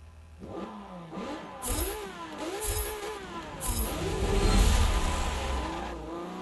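An untuned race car engine in the video game Forza 7 revs hard in repeated rising and falling surges, loud and close, climbing through the gears.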